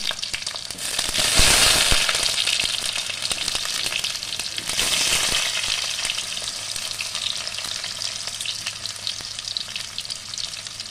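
Potatoes and mixed vegetables fry together in a pan with a busy, crackling sizzle. The sizzle swells loudly twice near the start as the food is stirred, then settles into a steady hiss.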